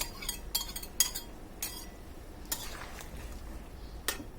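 A spoon clinks and scrapes in a pot while spices are stirred into a fish head and pumpkin curry, several sharp taps at a close, fairly quiet level.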